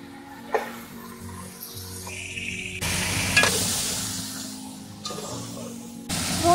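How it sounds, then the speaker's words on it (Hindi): Chunks of mutton sizzle loudly in a pot coated with garlic-ginger paste, a steady close-up frying hiss broken by the clatter and scrape of stirring. "अब अपना मटन का गोश्त इसमें शामिल कर लें और उसको इसमें अच्छी तरह भून लें।"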